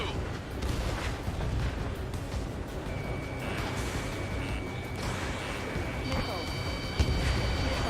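Missile launches and explosions from the video game Ace Combat 7 rumble continuously with booming blasts, thick and loud, with a thin electronic warning tone appearing partway through.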